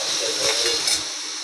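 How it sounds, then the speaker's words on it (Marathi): Close, bright hiss of onions frying in a little oil for momo filling, a short steady sizzle that fades toward the end, with no voices. "कांदा चांगला भाजून झाला आहे,"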